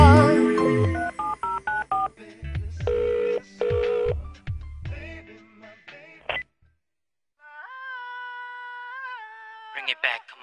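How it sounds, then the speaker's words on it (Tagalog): Telephone keypad tones beep within a 2005 Filipino hip-hop album track, a quick series of separate dial tones over the music, then a pause and a sustained ringing tone. "When you're all alone, pick up your phone and dial."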